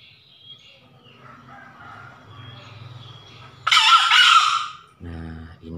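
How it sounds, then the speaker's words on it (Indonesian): A rooster with a treated comb crows once, a loud, strained call of about a second and a half, after quiet low background sounds, then a short low honking call follows. "Dulu ayam ini bunyinya cuman 1-2 kali."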